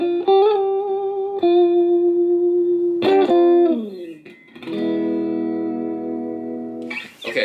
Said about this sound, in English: this is what it sounds like without any effects. Just the Fender Stratocaster.